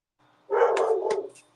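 A dog lets out one loud, close bark that runs into a brief rough follow-on sound, and the room is otherwise quiet.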